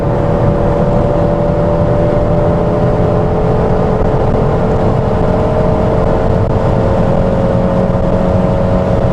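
An Alfa Romeo GT engine held at high revs while accelerating. A loud, continuous drone with a steady tone runs throughout, with no voices over it.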